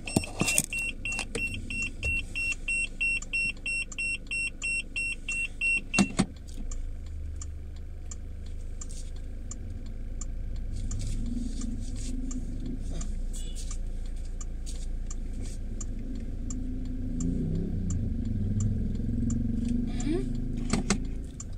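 A car close by on the other side, heard as a low engine rumble with beeps and small clicks, while a voice speaks at times.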